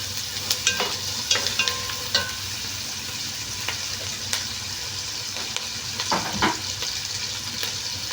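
Small diced pieces of chicken breast fry and sizzle in a pan, a steady close crackle broken by occasional scraping stirs of a utensil, with no talking.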